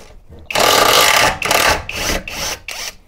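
Impact wrench fitted with an extension driving bolts in loud, close bursts of rapid hammering, one long run followed by several shorter pulses with brief gaps between.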